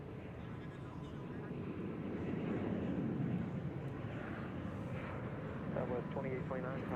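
An airplane landing at Reagan National Airport produces a steady, distant jet engine roar that swells slightly midway and continues beneath faint talk.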